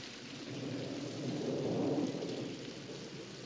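A heavy jungle downpour hisses steadily and evenly, while a low thunder rumble swells and fades in the middle.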